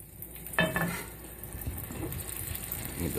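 Butter and oil frying in a pan, a soft low sizzle with a brief clink of utensils near the start, quiet and steady.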